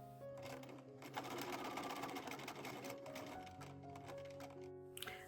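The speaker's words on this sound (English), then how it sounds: "I'm going to sew using a 1/4 inch seam all the way around the top" A sewing machine stitches a quarter-inch seam around the top of a fabric Santa hat bowl filler, running in a steady mechanical whir close to the microphone with a few brief pauses.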